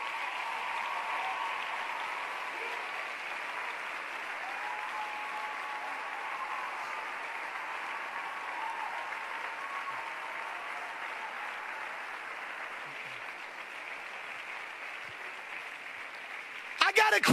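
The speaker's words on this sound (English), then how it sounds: "I think we ought to give an applause to these people right here." A church congregation applauds during an evening youth service, a dense, steady wash of clapping that holds at an even level for about seventeen seconds with faint musical tones underneath, then a sudden louder burst at the end.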